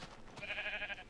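Sheep bleating in the video game Minecraft, a single drawn-out wavering bleat lasting about a second, moderately loud and close, alone with no talk over it.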